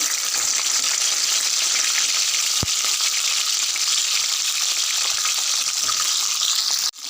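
Cut drumsticks fry in oil in a kadai, giving a loud, dense, unbroken crackling hiss close up, with one sharp click partway through and a brief dip at the very end.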